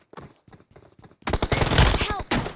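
Rapid bursts of automatic gunfire crack out in a video game shootout, with sparse shots at first and then a dense, loud volley of fire. A voice speaks briefly under the shots.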